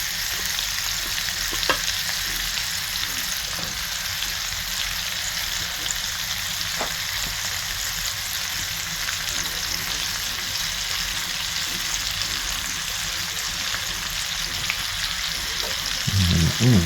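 Onions frying in a pan alongside chicken thighs for a stew, a steady close sizzle that runs on evenly, with a soft clatter near the end.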